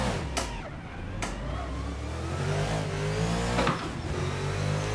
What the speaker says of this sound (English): From this high output racing V8 engine.